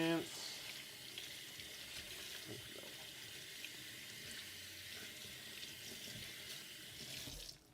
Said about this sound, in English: Just give it a little rinse.